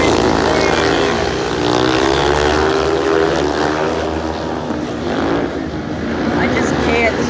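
Speedway race cars in the last race of the night, roaring past at about 80 mph with a loud continuous engine drone that swells and fades, while people talk over it nearby.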